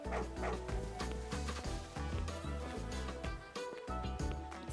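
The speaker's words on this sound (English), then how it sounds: "Dog!" A dog barks and yips in a video game, a run of repeated barks over a steady, rhythmic game music bed.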